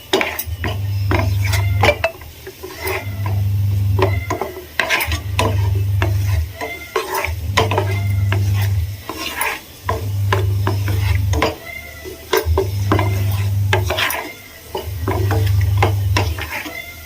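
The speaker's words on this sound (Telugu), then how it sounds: "నెయ్యి కొంచెం మరిగిన తర్వాత ఇందులోకి కొన్ని జీడిపప్పుని వేసుకొని ఫ్రై చేసుకోవాలి." Cashew nuts fry in melted ghee, a steady sizzle punctuated by a rhythmic scraping of a spatula stirring the pan every couple of seconds, close and loud with faint talk in the background.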